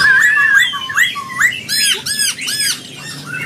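A caged songbird at a bird market kiosk calls loud and close, first in warbling whistled phrases and then in a run of sharp, repeated squawking notes.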